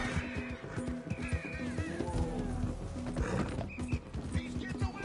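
Horse galloping in Red Dead Redemption 2, a steady rhythmic clip-clop of hooves close by with creaking tack, running continuously under game sounds and a voice.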